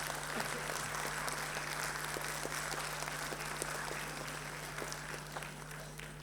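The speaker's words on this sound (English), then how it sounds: "Big round of applause, parents." An audience of parents at a school annual day applauds, many hands clapping continuously in a large hall over a steady electrical hum, fading slightly toward the end.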